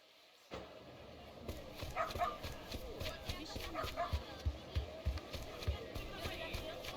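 A dog in Like a Dragon: Ishin! barks repeatedly in a steady run of short, close yelps over game ambience, with voices talking throughout.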